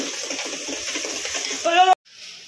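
Watery dal pours into a pot of sambar with a steady liquid splashing that thickens into a brief gurgling gush before cutting off, while someone speaks.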